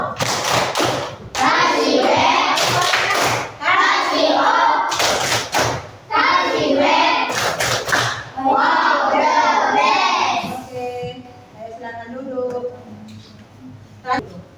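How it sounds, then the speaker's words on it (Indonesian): Children clapping a rhythmic 'tepuk wow' cheer in a classroom for a group, with bursts of sharp hand claps and thumps alternating with shouted chant-like voices, fairly loud and close, ending with quieter speech. "ayo kasih dulu nak tepuk wow untuk kelompok 1. Tepuk wow."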